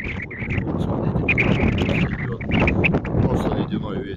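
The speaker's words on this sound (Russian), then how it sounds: "Просто ледяной ветер." Icy northerly wind blows off the shore at the seaside on a cold morning, buffeting the microphone in uneven gusts, with a voice speaking over it throughout.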